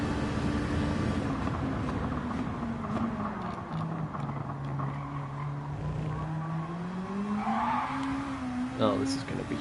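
Race car tyres slide and squeal on the Tokyo Expressway circuit in a racing game, with a steady engine drone whose pitch rises and falls, all under continuous commentary.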